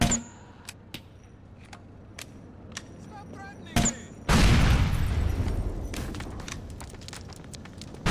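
A grenade launcher round in GTA IV bursts into a loud explosion partway through, a heavy boom that decays into a long rumbling tail, preceded by sparse clicks and small impacts in otherwise quiet surroundings.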